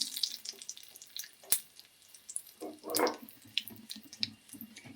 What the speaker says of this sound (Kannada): ತುಪ್ಪಕ್ಕಾದ್ಮೇಲೆ ಸಾಸಿವೆ, ಜೀರಿಗೆ ಹಾಕ್ಕೊಳ್ತೀನಿ. ಮೆಣಸು ಹಾಕ್ಕೊಳ್ತೀನಿ.